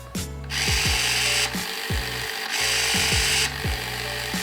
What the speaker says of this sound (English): I've just written some very basic code to get this motor to turn this way and then this way.